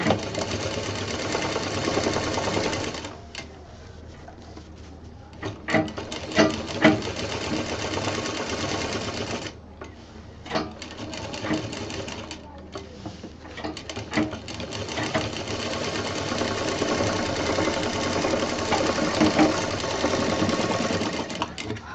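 A sewing machine stitches a quilted fabric bag in fast, steady mechanical runs, pausing briefly between bursts, close and clear.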